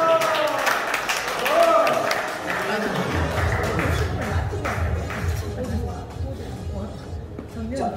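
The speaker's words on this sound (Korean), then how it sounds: "자, 박수." An audience applauding at a wine class dance party, clapping that swells briefly and then settles into a low murmur of crowd noise.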